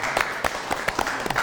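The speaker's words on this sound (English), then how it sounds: "the internet wants to give you a big round of applause for doing this" A short round of applause, a small group clapping unevenly at a moderate, close level, with no voices heard.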